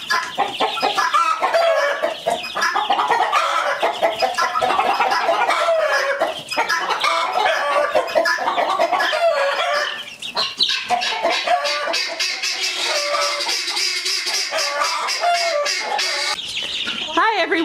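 Hens cluck and squawk repeatedly in a busy, loud coop chorus, with an occasional longer call rising over the steady cackling.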